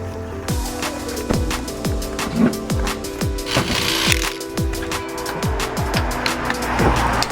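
Race cars at a trackside station on the Nürburgring circuit roar past one after another, each loud engine note rising then dropping with a sharp Doppler sweep, around a dozen passes in quick succession with no talk.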